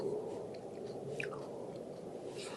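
Someone chews a crunchy Suzanna grape berry close to the mic, producing soft repeated crunching and squishing bites over a steady background hiss.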